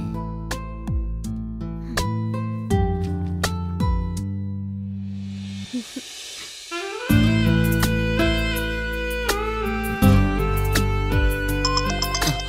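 A musical phone ringtone plays a loud, tonal melody of repeated notes, pausing briefly with a soft swoosh before the tune resumes.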